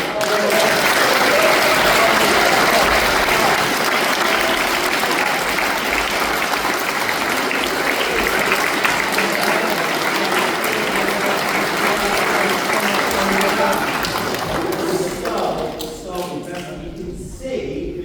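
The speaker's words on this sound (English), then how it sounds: "Take a big bow and give you a huge round of applause." A school audience at a Year 3 Harvest Festival assembly gives a long, loud round of applause for the class performance, many hands clapping steadily before thinning out near the end.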